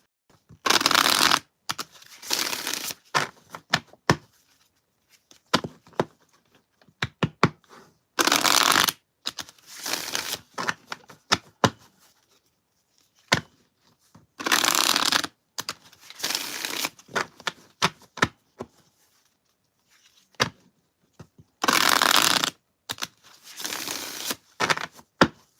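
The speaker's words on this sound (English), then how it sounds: "I'm already shuffling to do the angel numbers." Tarot cards shuffled in repeated bursts, each a few seconds of crisp riffling and flicking, separated by quiet pauses and softer handling taps; close and clear with no talking.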